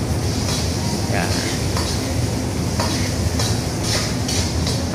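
Onion and garlic frying in a pan, with a steady, dense sizzle running throughout and a few brief stirring scrapes and clinks on top.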